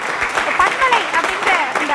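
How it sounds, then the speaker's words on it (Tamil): A full auditorium crowd claps in welcome at a Tamil event, brief lively applause mixed with cheering and voices over two seconds. "அரங்க நிறைந்த கைத்தட்டல் கொடுத்துக்கலாம்"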